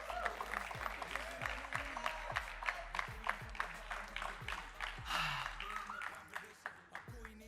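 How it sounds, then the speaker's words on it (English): A crowd applauds Chennai Wolves and Dubai Vipers on stage before the toss at a GEPL match, the clapping faint and steady, heard under loud speech and background music. "A big round of applause for both the teams."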